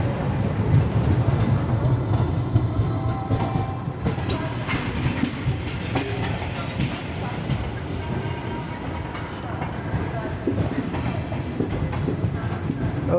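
Rake of the Hazur Sahib Nanded–Ganganagar Express shunting at a station, a steady rumble of rolling rail cars with faint wheel clatter, people talking nearby throughout.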